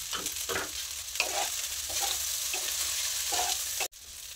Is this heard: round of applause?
no